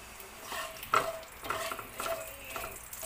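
Two whole cloves frying in hot oil alongside a cinnamon stick for an egg curry: a steady close sizzle with a few sharp stirring scrapes, no voices.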